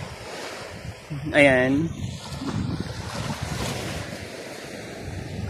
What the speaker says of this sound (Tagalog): kalmado yung hampas ng tubig ngayon